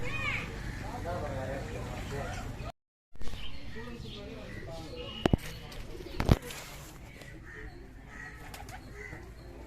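Soft cooing of a pigeon-like bird near Sathanur dam, repeated low calls mixed with people talking nearby and a few sharp knocks.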